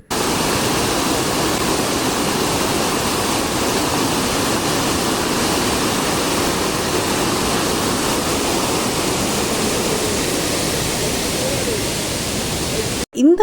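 Monsoon water rushing over rocks beneath a bridge at Meenvallam, a loud, steady, dense roar of flowing water throughout that cuts off abruptly at the end.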